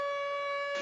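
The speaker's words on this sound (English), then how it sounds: "the air raid sirens blare again with a mandatory blackout." An air raid siren over Los Angeles during a nighttime blackout holds one steady, piercing tone, loud and unbroken for under a second.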